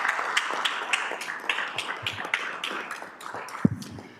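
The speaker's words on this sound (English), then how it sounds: "Let's give a round of applause to Mr. Hutchison." Applause for a middle school social studies teacher at a school district governing board meeting: a modest crowd clapping steadily and fairly close, irregular individual claps, with a brief thump near the end.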